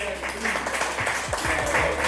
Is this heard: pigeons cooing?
no